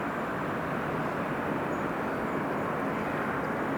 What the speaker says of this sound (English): 767-300ER coming in from JFK.